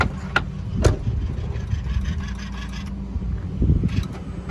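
A 2016 Peterbilt 579 truck engine idling, a steady low rumble with a few brief clanks and knocks over it, heard up close.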